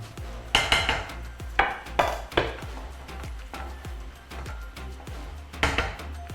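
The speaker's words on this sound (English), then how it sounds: "I'm ready to add my tomatoes" Chopped tomatoes tumble into a pan of okra spiced with garam masala and get stirred through, giving a few sharp clanks and scrapes of utensil on metal among softer knocks, close up and with nobody talking.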